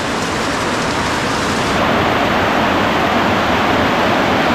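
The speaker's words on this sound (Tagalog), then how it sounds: "Kanina napakainit pero ngayon ulan na naman." Steady rainfall pouring down on a rural farm, a loud, dense wash of noise that thickens slightly partway through, with no voices.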